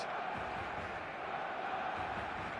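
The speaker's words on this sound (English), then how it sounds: "The stadium is full of noise and energy." A packed stadium crowd in the eFootball video game roars as a continuous, dense wash of noise, steady and enveloping with no clear breaks.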